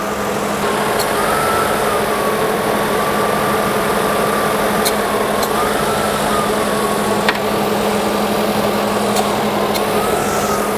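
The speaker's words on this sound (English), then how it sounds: "Right now the compressor is cycling on and off." A 1998 Ford Contour engine running steadily while the AC compressor cycles on and off, a constant near hum with a faint whine rising and falling and brief clicks repeating every few seconds, no voices.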